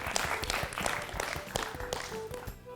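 A short burst of applause sound effect from a children's quiz show, lively scattered clapping from a small crowd that fades toward the end.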